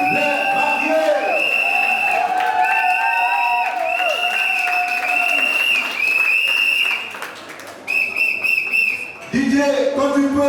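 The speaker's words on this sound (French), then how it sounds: "on acclame très fort pour les mariés" A wedding crowd at a civil marriage ceremony in Gabon applauds and cheers loudly for the newlyweds, with sustained clapping, whistles and whoops, a brief dip near the end and then a renewed burst.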